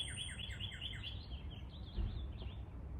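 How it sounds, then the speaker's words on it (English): Birds sing outdoors in a steady run of repeated chirping, high-pitched phrases that carry loudly over a low background rumble, with no speech throughout. "The birds are really loud."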